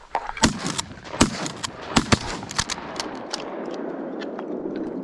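Shotgun blasts ring out during a Midwest duck hunt, several sharp close reports in quick succession over the first few seconds, then fading into an outdoor rustle and echo.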